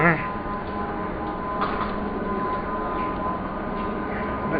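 A metro train passes close by with a steady, heavy rumble and a faint high whine, holding at an even loudness throughout.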